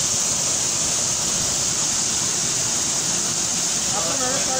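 A waterfall's roar heard up close, a loud, constant broadband rush that never lets up, with a voice breaking in briefly near the end.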